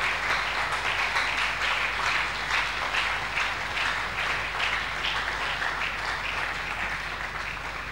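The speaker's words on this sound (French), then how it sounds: "Alors l'Église peut se tenir debout et nous acclamons." A church congregation applauds steadily and loudly, dense clapping filling the space without a break from start to finish, with no speech over it.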